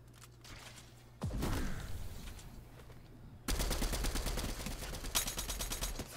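Gunshots ring out in the video game Fortnite: a single heavy blast early on, then dense rapid automatic fire that keeps going to the end, loud and close.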